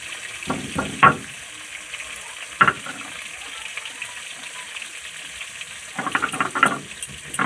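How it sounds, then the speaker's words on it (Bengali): Fish frying in a pan for a Bengali fish curry with ridge gourd. Soft, steady sizzling is broken by louder bursts of spattering or stirring near the start, briefly in the middle, and again toward the end. "মাছগুলো ভাজা হয়ে গেছে"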